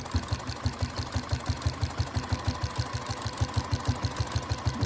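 A sewing machine stitches a baby quilt with a fast, steady mechanical rhythm of rapid needle strokes, running evenly at a quiet level with no talking.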